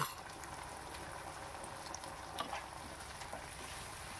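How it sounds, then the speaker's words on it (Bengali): Sauce mix for chilli fish stirred in a pan over heat, a faint, steady sizzle and bubbling simmer with occasional soft scrapes and taps of the spoon against the pan. "এবার আমি যে সস মিক্সটা বানিয়েছি ওটাকে অ্যাড করে দিলাম। দিয়ে আমি একটু হালকা নাড়িয়ে চাড়িয়ে নেব।"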